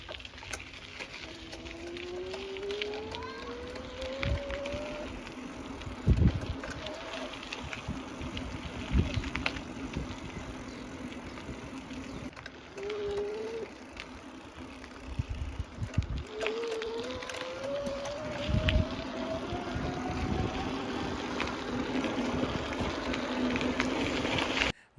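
Eleglide M2 electric bike ridden at speed, a continuous wind and road rush with a rising motor whine that climbs in pitch several times, plus scattered bumps and rattles.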